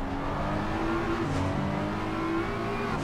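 A McLaren race car at Indianapolis in Assetto Corsa Competizione pulls hard out of a corner, its engine a loud, steady, close drone with rising pitch throughout.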